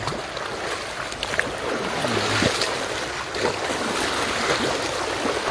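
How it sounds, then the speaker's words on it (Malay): Fast-flowing flood water rushing down from upstream through a village in Marudi, a continuous broad roar with wind buffeting the microphone, steady and fairly loud throughout. "Makin deras air ni."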